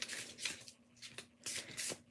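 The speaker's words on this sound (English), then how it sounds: "I would happily shuffle off camera, but on camera." Tarot cards being shuffled during a live reading, heard as several short, quiet papery riffling bursts spread across about two seconds, with no voices.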